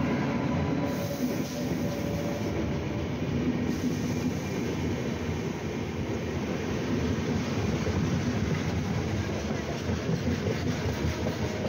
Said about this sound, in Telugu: లింగంపల్లి విశాఖపట్నం జన్మభూమి ఎక్స్ప్రెస్.